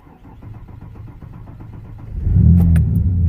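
A truck engine cranks with a rhythmic, pulsing starter churn, then catches and roars to life, settling into a loud, close idle with a sharp clank or two.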